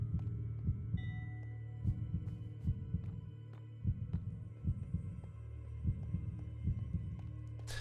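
A heartbeat thumps in Minecraft, a low, steady double-beat pulse repeating roughly every second over a constant deep hum, with occasional faint clicks.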